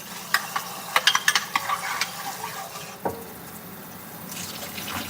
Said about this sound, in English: I done rinsed this water about 3 times